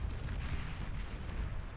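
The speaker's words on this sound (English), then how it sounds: "plasma cannon moves pretty slowly" Plasma cannons in the real-time strategy game Beyond All Reason fire in a dense wash of rumbling artillery booms and bursts that continues without a break, heavy in the low end and steady in loudness.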